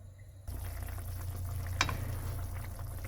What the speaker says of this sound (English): we'll let this boil for some time